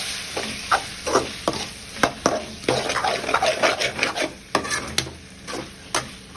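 Chicken masala with added fatty skin and potatoes stirred around a hot pan, a spoon scraping in repeated strokes over a steady sizzle of frying, close and fairly loud with no talking.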